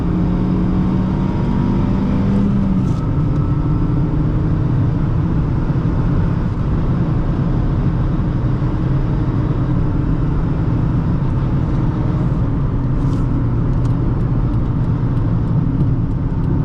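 A 2008 Honda Fit driving on the road, loud steady engine drone with a rising rev early on and constant road and cabin noise throughout, heard from inside the car, no speech.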